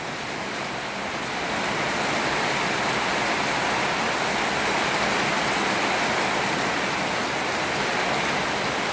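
Steady, dense rain pouring down close by in Samut Sakhon, Thailand, a continuous loud hiss of drops with no break across the whole stretch.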